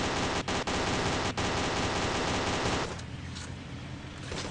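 Rapid automatic gunfire from The Gang Auto mobile game, a loud sustained burst with sharp individual cracks, then dropping to a quieter noisy tail near the end.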